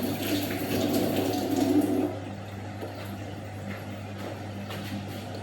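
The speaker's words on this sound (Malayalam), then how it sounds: "2-3 വെള്ളത്തിൽ കഴുകണം." Goat meat for an Arabic-style biryani is washed in water, with a continuous splashing pour for about two seconds. It then drops to a softer trickle and light dripping.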